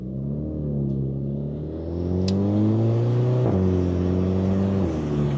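A Volkswagen Jetta GLI engine drones and rises in pitch as it accelerates, with an abrupt break and a short pop as it shifts gears, heard steadily from inside the car.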